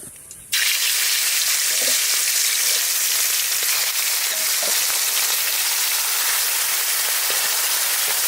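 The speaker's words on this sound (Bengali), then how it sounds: "মাছ ভাজে নেবো কড়াই চাপাই দিছি সর্ষের তেল" Loud, steady sizzling of koi fish frying in hot mustard oil in a wok, a dense crackling hiss that starts abruptly and continues without pause.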